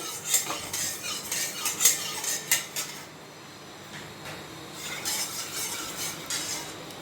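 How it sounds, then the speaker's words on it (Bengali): A utensil scrapes and clinks against a pan as mung dal paste is added to hot ghee, with a soft continuous sizzle underneath and the scraping easing off partway through. "এবারে আমি এই যে ডাল বাটাটা দিয়ে দিচ্ছি ঘিয়ে।"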